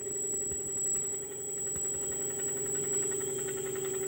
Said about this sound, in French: Le moteur tourne, j'ai la lumière.